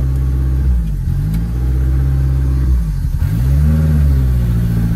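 Volkswagen Rabbit 16v turbo engine revving up and falling back in two loud, close blips over a steady rough running note, with no talk.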